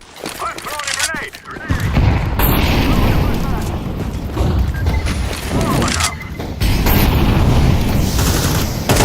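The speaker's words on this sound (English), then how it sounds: "I'm throwing a grenade" During a Counter-Strike 2 match, a grenade blows up with a loud, heavy boom amid rapid gunfire and rumbling blasts, under brief talk from a player.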